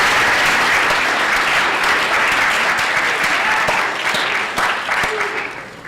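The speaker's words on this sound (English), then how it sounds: "just give yourselves a round of applause" Sustained round of applause from a conference audience of group psychotherapy professionals, dense and steady for several seconds before tapering off toward the end.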